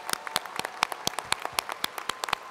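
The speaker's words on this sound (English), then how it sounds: "Will the audience join me in applauding these honors candidates?" A commencement crowd claps for standing honors graduates at a university's fall noon ceremony, a brisk, scattered patter of claps at moderate distance with no voices over it.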